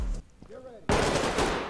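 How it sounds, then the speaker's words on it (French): Gunfire in a video game, including a silenced shot: a short muffled thump early, then a sudden loud burst of rapid shots that tails off, with a voice briefly heard between them. "Ça c'est un tir. Ça c'est Alex. Ça c'est du silencieux donc bon."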